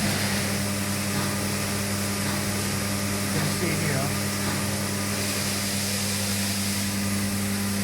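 A coffee machine micro water pump assembly machine runs at its second station, giving a steady mechanical hum and drone with faint clatter throughout, no voice heard.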